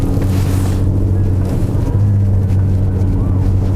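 An Audi A6 C6 engine under light throttle holds a steady, deep hum heard from inside the cabin, and the pitch shifts slightly partway through.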